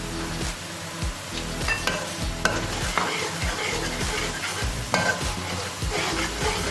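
Onions frying in a pan with fennel, nigella and fenugreek seeds, a steady close sizzle broken by repeated spoon stirs and scrapes throughout, with no talking.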